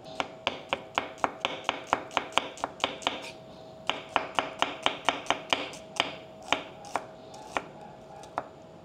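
A knife thinly slicing red onion on a cutting board, producing rapid, evenly spaced crisp taps close up that slow toward the end, with no talk.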